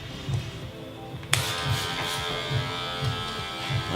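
Electric hair clippers buzz steadily at close range through a fade haircut, with a low pulsing hum and a brief sharp click partway as the guard is adjusted.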